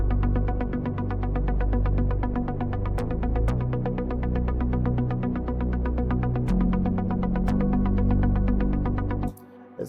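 A plucked synth line from the Hive synthesizer plugin in an Afro house track, playing a steady, dense repeating pattern with bass underneath, loud and continuous for about nine seconds before cutting off.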